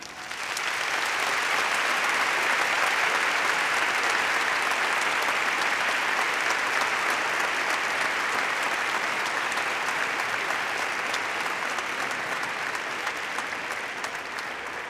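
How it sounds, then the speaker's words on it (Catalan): Sustained, dense applause from a large audience at a university graduation ceremony for law graduates, steady and even for the full stretch without fading. "Per a tots ells i per a tots vosaltres demanem un fort aplaudiment."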